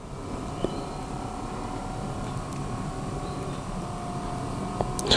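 Small electric motor whirs with a steady hum and faint tonal whine, running close and fairly quiet as its speed gradually rises, ending in a slight bump in level, with no voices.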